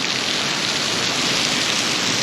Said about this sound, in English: it is absolutely pouring down rain